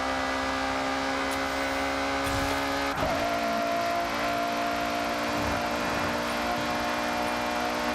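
A Ferrari FF shooting brake driven in Forza Horizon 6, its engine holding a steady, buzzing drone near the listener, then dropping and climbing again through a gear change partway through.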